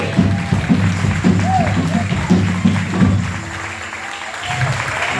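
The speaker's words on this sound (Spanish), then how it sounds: "Vamos a aplaudirle fuerte." Church congregation applauding loudly during an evening worship service, a dense sustained wash of clapping from a crowd with voices and tonal sounds mixed in.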